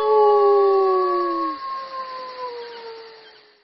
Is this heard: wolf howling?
yes